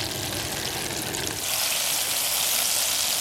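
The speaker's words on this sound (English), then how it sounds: "the fish is frying" Walleye fillets fry in a pan at a March campsite, giving a soft sizzle that swells into a loud, dense crackle about halfway through.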